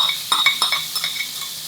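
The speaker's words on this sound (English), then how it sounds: "Throw the beans on there. Black beans. Heat them up in the pan." Canned, strained black beans heat in a pan beside frying eggs, with a steady sizzle and a few quick utensil scrapes and taps, close by.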